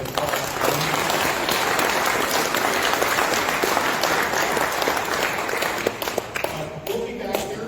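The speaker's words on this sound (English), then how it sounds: "So please give him a round of applause." A banquet audience at a convention awards dinner applauds, dense sustained clapping from a large room continuing steadily throughout.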